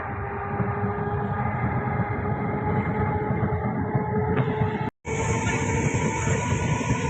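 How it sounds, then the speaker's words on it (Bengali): A train rushes past very close to a house on a foggy day, a loud, continuous rolling roar with rattling wagons. Near the end, a sharp, sustained high whistle cuts in after a brief dropout. "এই দেখো ট্রেন যাচ্ছে, দেখো কতটা কাছ থেকে"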